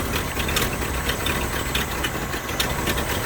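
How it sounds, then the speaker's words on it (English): A 1959 Cadillac engine idling after a coolant change, a steady low rumbling drone with a faint rhythmic pulse, close and continuous. "We're going to let her idle for about a good 10-15 minutes, get her nice and hot"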